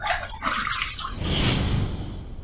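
Running water rinses a stainless steel two-piece safety razor during a shave, a close, splashing gush that briefly swells and then thins out.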